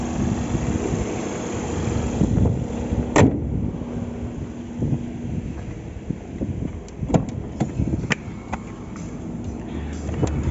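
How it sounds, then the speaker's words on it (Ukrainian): A 2008 Volkswagen Jetta with a 1.4 TSI engine and manual gearbox idles steadily and quietly, a low, even hum running throughout with a few light clicks and knocks on top. "Працює дуже рівно і тихенько двигун."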